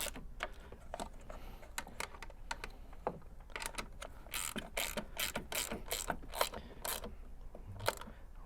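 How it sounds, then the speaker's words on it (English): Bolts being tightened on a propane conversion kit for a Harbor Freight Predator 3500 generator, heard as quick, quiet ratchet clicks in irregular bursts up close, with no talk. "Come in here, tighten your bolts."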